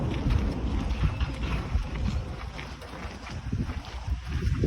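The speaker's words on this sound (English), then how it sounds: "You know, it is kind of windy in March." Wind blows outdoors on a March day at a greenhouse garden in Chandler, Arizona, buffeting the microphone with a steady low rumble and gusty swells throughout.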